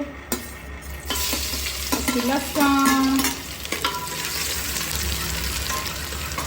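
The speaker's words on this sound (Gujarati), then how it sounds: "હવે થાય છે વઘાર તેલમાં નાખી છે હિંગ" Asafoetida tempering in hot oil sizzles steadily close by for Gujarati Chinese bhel, with stirring clatter and a brief spoken word over the frying hiss.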